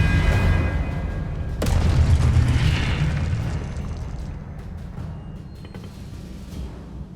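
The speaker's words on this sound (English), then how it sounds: "Expelliarmus!" Spell-combat blasts from Hogwarts Legacy gameplay: a sharp broadband boom strikes early, then a heavy rumbling burst swells and slowly decays into a lingering low roar, with no talk over it.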